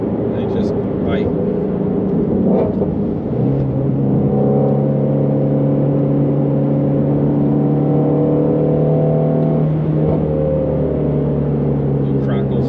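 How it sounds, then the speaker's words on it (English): A 2020 Ford Mustang GT350R's engine drones loudly from inside the car with a steady tone, and scattered sharp exhaust crackles pop here and there on lift-off while a voice seems to speak over it. "Little crackles in the exhaust when you let off"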